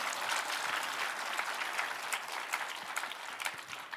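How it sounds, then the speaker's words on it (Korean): Sustained applause from a church congregation during a sermon, steady dense clapping filling the whole stretch at an even level with no talk over it. "박수 좀 치시죠"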